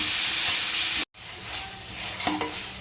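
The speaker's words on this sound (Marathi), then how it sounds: "आता आपण यामध्ये तयार केलेला मसाला घालून घ्यायचा आणि व्यवस्थित मिक्स करून घेऊया" Onions fry in a pan with chicken masala paste being mixed in, a loud continuous sizzle and hiss with stirring scrapes, broken by one brief silent gap before the frying resumes.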